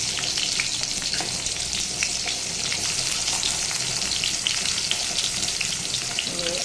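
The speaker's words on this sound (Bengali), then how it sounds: "পটল ভাজিটা দিয়ে দিচ্ছি, ভাজি করার জন্য পটল দিয়ে দিচ্ছি" Pointed gourd (potol) slices, coated with salt and turmeric, frying in hot oil in a wok, giving a loud, steady broadband sizzle with crackling pops throughout.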